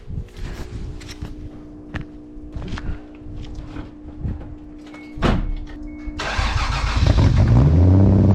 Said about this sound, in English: I think it's time for a cold start.